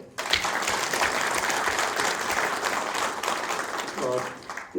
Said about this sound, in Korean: 다시 한번 박수 치실래요?